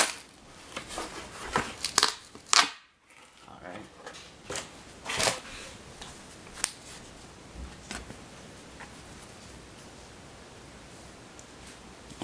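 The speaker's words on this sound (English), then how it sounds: "well, I'm gonna rip it open." Cardboard and plastic packaging of a Han Solo action figure being torn open, a burst of crinkling rips and rustles up front, then quieter handling noise.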